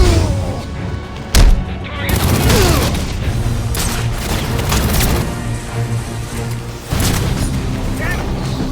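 Gunfire and booming impacts erupt in the Batman Arkham Origins video game, with bursts of shots and crashes over a dense battle soundscape while in-game voices shout.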